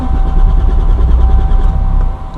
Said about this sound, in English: Now let's start her up and see how she feels.